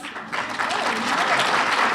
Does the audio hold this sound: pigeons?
no